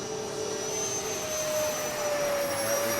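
Steady, continuous roar of an F-106 Delta Dart jet flying a gear pass with the landing gear down, heard without a break and with a thin whine above the engine noise.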